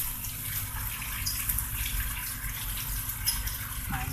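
Water flows steadily down into the second chamber of a koi pond filter system, a continuous close rushing wash that holds the same level throughout with no pauses.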